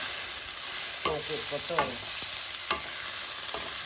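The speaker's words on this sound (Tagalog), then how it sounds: "Stir fry." Siyaw with sesame seeds and sesame oil sizzles in a pan, a steady hiss broken by about four distinct scraping stir strokes of a spatula, close and fairly quiet.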